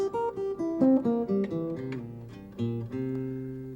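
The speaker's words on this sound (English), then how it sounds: "that arpeggio sounds like this" Single picked notes of a dominant 7th arpeggio ring out on an acoustic guitar, climbing and descending in an even run before settling on a held low note that fades, played solo and close-up.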